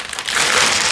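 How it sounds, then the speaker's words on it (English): Protective film peeling off the display panel of a Hisense U7 Series Mini LED ULED TV, a close, steady crinkling rasp that builds after a quieter start and holds for about a second, with no talking. "Taking off the protector right here for the display."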